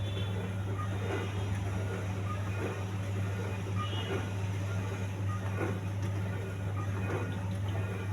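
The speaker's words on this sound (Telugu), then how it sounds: "ఆ ఫ్యాన్ తిరుగుతున్న సౌండ్ మాత్రం వస్తుందండి." A running IFB dishwasher gives off a steady low hum and whir from its fan, close and even throughout, with faint watery swishing on top.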